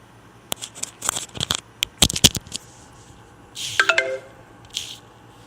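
Telephone beeping: a string of sharp clicks and taps, then a short cluster of electronic tones stepping in pitch, followed by a faint hiss, close and fairly loud.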